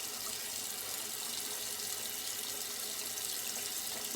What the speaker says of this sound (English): Try and get the soap off my face here.